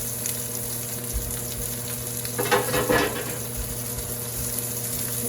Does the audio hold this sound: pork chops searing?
yes